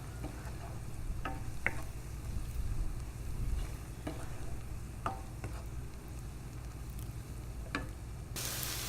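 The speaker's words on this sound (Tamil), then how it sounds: "இந்த சோயா சாஸும் சேர்த்ததுக்கப்புறமா இதையும் நல்லா வதக்கி விட்டுக்கணும்." Cauliflower and peas sauté with soy sauce in a pan for fried rice, a low continuous hiss with soft scattered stirring taps and scrapes throughout, quiet and steady, with no voices.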